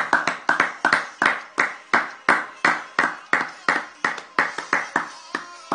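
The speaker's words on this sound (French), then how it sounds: "Acclamons très fort." A church congregation claps hard and fast after a prayer, with loud, close, evenly spaced claps ringing in a steady rhythm throughout.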